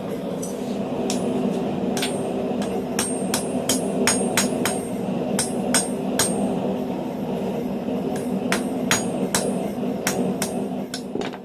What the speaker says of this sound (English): Just some finishing touches with some light hammer blows.